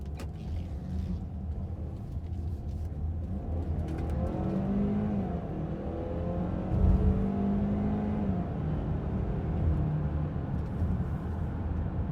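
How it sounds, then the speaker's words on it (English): A 2015 Ford Edge Titanium AWD pulls away from a standstill, its engine note rising steadily inside the cabin over about twelve seconds, with a continuous low road rumble and no one speaking. "Let's see, acceleration from a dig."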